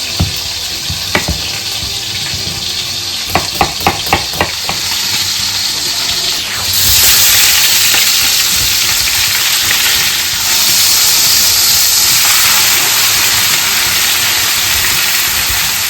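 Ham browns in a hot frying pan with a steady sizzle that swells into a louder, hissing fry partway through, after a few sharp clicking taps early on.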